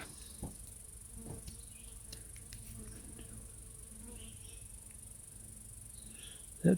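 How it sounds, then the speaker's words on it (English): An insect, a bee or fly, buzzes around while a figure is being carved, a thin steady drone under a continuous high whine, with a few faint taps and a louder knock near the end; no talking. "That bee is driving me nuts, or that fly is driving me nuts."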